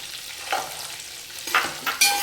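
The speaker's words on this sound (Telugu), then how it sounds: "ఆనియన్స్ అన్నీ వేసేసుకొని మనం కదుపుకుంటూ మగ్గించుకోవాలి అన్నిటిని దోరగా వేగేలాగా." Onions, carrots and beans frying in a pan for vegetable pulao, stirred with a few distinct scraping strokes over a soft steady sizzle, close and alone with no talk.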